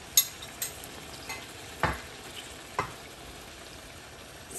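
Meat fries in a pot with salt, turmeric and black pepper for Afghani shorba while a spoon stirs it. Faint scraping strokes and clinks come at uneven intervals over a soft, steady sizzle, with no talking.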